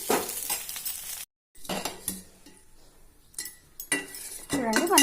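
Metal spatula scraping and clinking against a hot pan while a crispy hotel-style rava dosa is flipped, a few sharp scrapes and taps with a brief silent gap, light sizzling underneath.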